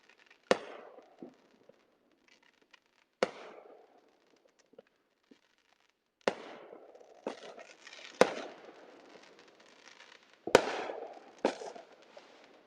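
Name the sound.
fireworks set off in a church parking lot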